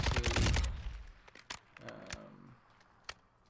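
Kastov 762 rifle fire in Call of Duty Warzone 2.0: a loud, dense burst of rapid shots up front, trailing off into a few sparse, sharp single cracks and faint scuffing.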